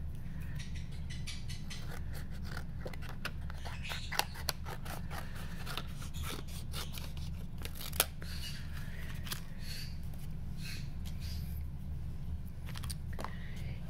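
Scissors snipping around a stamped paper image for a Christmas craft, a quiet, close series of irregular crisp cuts over a low steady background hum.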